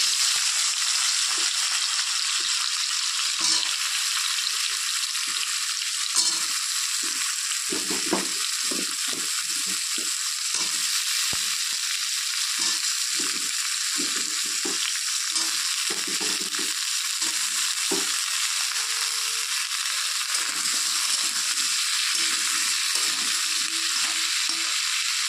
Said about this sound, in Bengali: ওই তেলের মধ্যে আমি কাঁচা কলা আর আলুগুলোকে ভেজে নেব